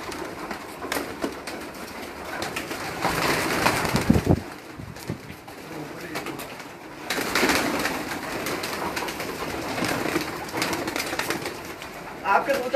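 Breeder pigeons coo softly in a low, repeated murmur, with rustling and a faint voice now and then in the background.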